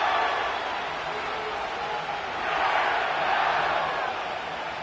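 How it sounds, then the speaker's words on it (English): A stadium crowd in an EA Sports NFL football video game, set at SoFi Stadium in Inglewood, sends up a broad, sustained roar of cheering that swells and eases slightly, heard alone at moderate loudness. "The crowd is definitely ready."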